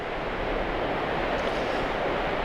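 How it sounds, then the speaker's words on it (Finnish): Strong stormy wind roars at a tipi tent campsite, a dense, steady rushing blast that buffets the microphone for the whole stretch with no letup and no voices. "yhä edelleen on ihan jumalaton tuuli päällä"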